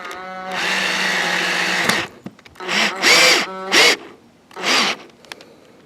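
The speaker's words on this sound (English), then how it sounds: "So I'm drilling at an angle, putting my screws in so it pulls the trim towards the camper" A power drill drives screws at an angle into trim along a used camper's roof, with a long whirring run followed by several short bursts of varying pitch as each screw seats.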